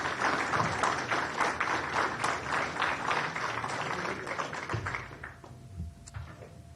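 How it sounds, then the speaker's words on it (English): Audience applause at a Blackford Hall of Fame induction ceremony, a dense run of clapping from a hall crowd that holds steady for several seconds, then thins and fades near the end. "let's give a nice round of applause for the Big O"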